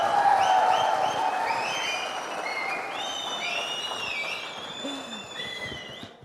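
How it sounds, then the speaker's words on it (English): An indoor audience at the Manipal Champions League 2024 jersey launch in Bengaluru cheers and applauds, loud clapping from the start with whoops and high whistles, gradually easing off. "Let's once again cheer."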